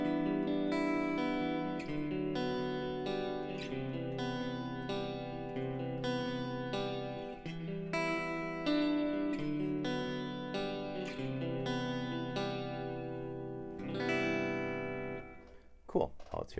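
Fender Stratocaster electric guitar played through an EQ into reverb, giving a thin, treble-heavy tone; sustained chords and picked notes ring continuously with reverb tails, ending in a few brief louder plucks.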